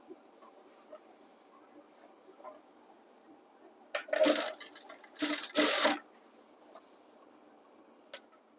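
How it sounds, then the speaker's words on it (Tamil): A sewing machine stitches canvas onto the leg hem of school uniform trousers in short bursts of rapid whirring chatter, two main runs close up over a quiet background. "இப்போது கேன்வாஸ் வச்சு தைக்கிறேன் பாருங்கள்"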